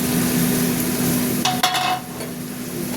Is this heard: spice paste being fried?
yes